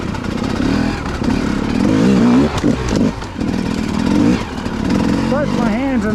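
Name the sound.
motorcycles riding on a winter ride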